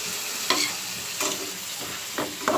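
Spices fry and get stirred in a hot pan, a constant close sizzle broken by four or five scraping strokes of a spoon against the metal, with no voices.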